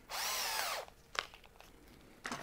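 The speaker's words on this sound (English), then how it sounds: "A 4 millimeter brad point drill." A power drill fitted with a 4 mm brad point bit whirs loudly at close range for nearly a second, then stops, followed by a few scraping clicks and another brief burst of noise.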